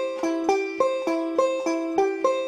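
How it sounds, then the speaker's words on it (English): A banjo plays a forward roll up the neck in a workshop, a quick even run of bright picked notes with regular accents, about eight crisp attacks over one measure, close and unaccompanied. "this forward roll is going to sound like this, the one measure pattern"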